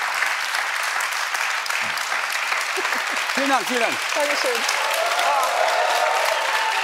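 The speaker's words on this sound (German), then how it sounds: "Euer Applaus." Continuous studio audience applause on a late-night talk show runs throughout while a person speaks briefly over it, the clapping steady and moderately loud.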